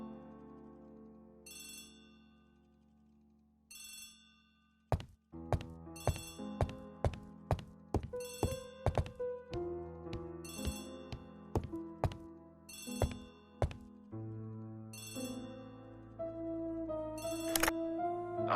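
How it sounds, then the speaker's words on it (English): A telephone bell rings in repeated short bursts, sparse at first and then mixed with a busier run of struck tones, fairly loud and clear with no talking. "Poirot, the telephone."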